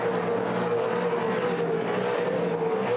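V8 Supercars at the 2008 Bathurst 1000 race start, a dense, continuous loud engine roar from the pack with a steady high whine and no break.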